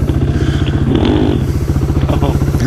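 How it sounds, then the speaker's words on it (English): A Honda Grom minibike rides offroad, its small engine putting out a steady, close, rhythmic chug with light clatter and thuds from the rough ground throughout. "So my boy's out here on his grom, and then Dallas is out here with his DRZ."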